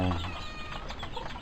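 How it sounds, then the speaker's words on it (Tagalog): Chicken on a farm clucking in a short run of close, harmonic calls over steady background noise, with no talking. "May manok, oh."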